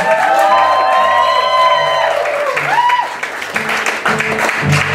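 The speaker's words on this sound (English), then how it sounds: "Please give her a round of applause, Miss Von Trapp" A live audience at a drag performance applauds and cheers for the performer, loud clapping and whoops mixed with sustained music tones and a singing or speaking voice over the top.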